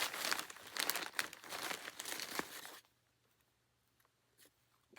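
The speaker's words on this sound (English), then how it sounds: "so it's in a plastic bag" A plastic bag crinkles and rustles sharply for about three seconds as it is opened up close, then goes nearly silent with only a faint rustle afterward.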